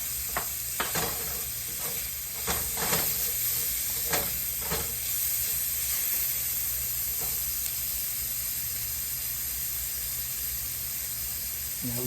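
Garlic sizzles in a hot pan with a steady, close frying hiss, broken by several sharp scrapes and taps of stirring early on, then a smoother, even sizzle.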